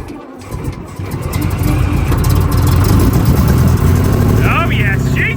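An Alvis Stalwart engine turns over and catches after long storage, rising into a loud, steady rumbling idle close by, with someone talking excitedly over it.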